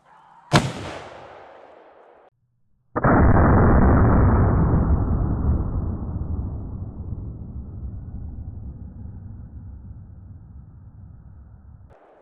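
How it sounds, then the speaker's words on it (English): A Winchester 1886 rifle in 45-90 WCF fires a 250 grain Barnes load outdoors: one sharp, loud report, then after a pause a heavy booming blast that rolls away slowly over many seconds. "Now we are going to shoot the 250 grain Barnes low left."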